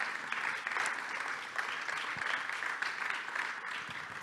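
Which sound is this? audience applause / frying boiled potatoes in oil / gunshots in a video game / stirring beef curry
audience applause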